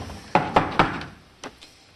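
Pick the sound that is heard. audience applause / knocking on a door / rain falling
knocking on a door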